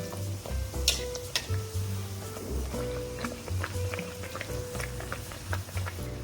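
Naan dough sizzling as it fries in a hot kadai, a steady crackling hiss with bubbling oil, close and fairly loud, with occasional sharper pops and clinks.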